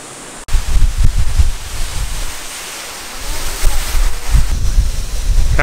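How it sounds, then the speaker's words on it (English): A huge waterfall throwing heavy spray in the Byron Bay hinterland: a loud, constant roaring rush of falling water up close, mixed with gusty wind buffeting the microphone, with no talking. "Currently sheltering from the waterfall because the spray is unreal"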